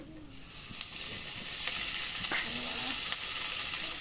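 Oil sizzling in a hot kadai on a gas flame, a steady bright hiss with faint crackles and occasional pops, close and continuous with no talking.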